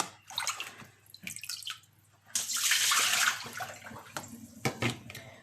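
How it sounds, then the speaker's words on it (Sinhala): Water poured off thawed fish splashes and gurgles in a short, loud rush midway, with quieter drips and trickles before and after. "ඊට පස්සේ මම මේකේ දැන් වතුර අයින් කරනවා."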